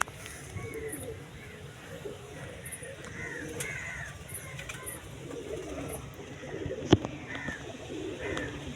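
Karna pigeon chicks coo softly amid a busy backdrop of bird calls, with an occasional crow-like caw and a steady low background murmur throughout.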